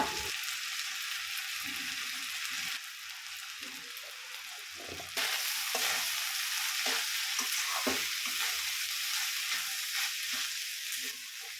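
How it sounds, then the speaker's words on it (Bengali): Rice frying in a pan with salt and turmeric, a steady close sizzle and crackle that holds throughout and swells louder about halfway, with faint stirring scrapes and no talk. "আবারও কয়েক মিনিট ভেজে নেওয়ার পরে একটা সুন্দর কালার চলে আসবে এই চালের মধ্যে"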